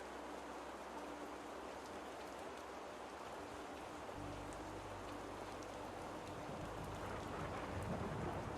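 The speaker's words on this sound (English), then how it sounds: "it was just a thunderclap, the loudest one you ever witnessed" Steady rain and rumbling thunder in the Rue Valley video game, a heavy low roll of thunder building about halfway through and sustained under constant rainfall, with no voices.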